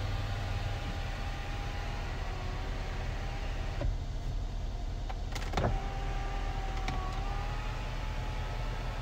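A 2014 Mercedes-Benz E550 4Matic's front sunroof panel slides fully open, its electric motor giving a long, even whine inside the cabin, broken by a soft clunk and a couple of faint clicks partway through.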